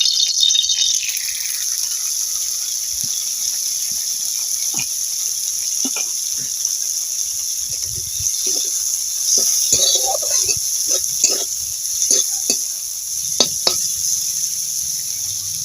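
Neem flowers fry in hot oil in a wok, a steady high sizzle with scattered crackles and pops and occasional soft clicks near the end.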